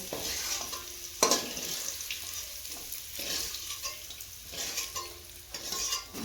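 Chopped onion, ginger and garlic frying in hot oil in a pan for a river magur fish dish, a steady close sizzle with stirring scrapes and a sharp clink of a utensil near the start.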